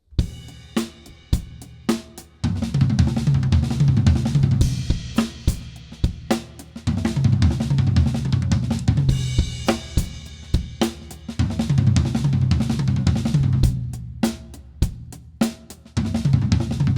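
Acoustic drum kit running a fast sextuplet rotation fill around the toms, dense rolling tom strokes alternating with brief sparse groove sections, loud and close, no voices.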